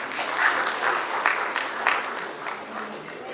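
Audience clapping at a business event as guests are welcomed with bouquets, a steady patter of many hands with small swells, somewhat distant.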